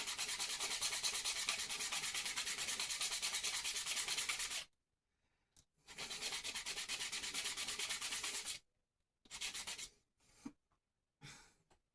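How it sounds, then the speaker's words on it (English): Sanding a part of a guitar under repair: steady, close, loud abrasive rubbing in long strokes for about four seconds, then pausing, resuming for a few seconds, and ending in short scattered bursts. "That needs to be sanded down a little bit."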